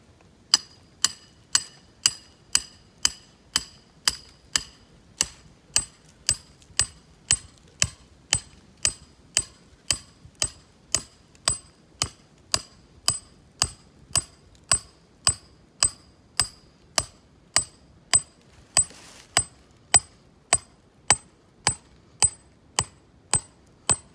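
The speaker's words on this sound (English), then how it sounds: "So we'll drive my stake," A hammer drives a metal trap stake into the ground for a dirt hole predator set, about forty sharp ringing strikes at a steady, even pace, close and alone with no talk.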